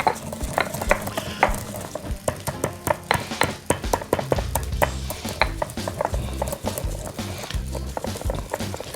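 Repeated grinding and knocking of a pestle in a mortar grinding spices, close and uneven, with scraping strokes and sharp taps throughout.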